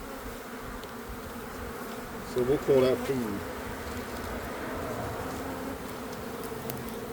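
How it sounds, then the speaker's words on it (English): Honeybees buzzing around an open hive during a colony split, a steady faint drone with a brief louder buzz passing close by, while someone speaks briefly over it. "Wow, look how many bees."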